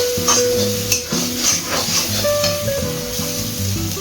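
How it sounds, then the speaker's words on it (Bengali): Coconut paste frying with leafy greens in a pan for a Bengali komli and pumpkin-leaf dish, a steady sizzle with spoon stirring and scraping against the pan, fairly close and continuous, with no talking. "এই যে এতে আমি নারকেল বাটাটা দিয়ে দিয়েছি। একটু ভালো করে ফ্রাই করে নিতে হবে।"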